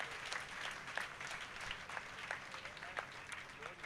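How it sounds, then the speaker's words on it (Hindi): A church congregation claps during Sunday worship, a steady, diffuse patter of many hands heard fairly faint and distant, with a voice faintly present underneath. "ताली बजा के प्रभु को महिमा दें।"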